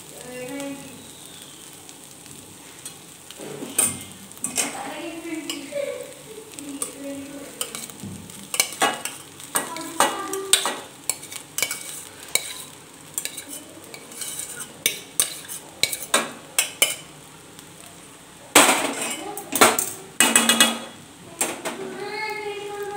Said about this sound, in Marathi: आता इथं हा जो भात आणि जी भुर्जी आहे छान अशी मिक्स करून घ्यायची आहे.